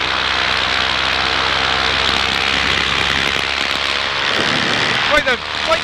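Paramotor engine droning steadily and loudly in flight, a dense continuous buzz with airflow noise throughout and a brief voice or bump near the end.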